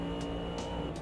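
A race car engine drones in Automobilista 2 with a steady, harmonic tone and brief rises in pitch, held throughout a single second with no speech.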